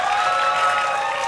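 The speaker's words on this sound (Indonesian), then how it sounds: "Tepuk tangan buat anak-anak muda Jakarta." Crowd applause at a Jakarta election debate event, a brief, even wash of clapping with faint cheering underneath, sustained without pause.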